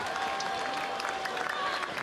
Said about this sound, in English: Getting warm applause from the crowd.